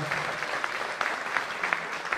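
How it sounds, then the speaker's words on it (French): An audience at the crowning of the Caudry lace queen gives a short burst of fairly quiet, dense clapping with a few sharper claps standing out, lasting about two seconds. "Vous pouvez applaudir très fort"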